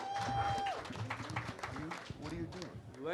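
A convention crowd claps and cheers for guests at a fan panel, a dense burst of applause and whoops with a host's voice talking over it close to the microphone.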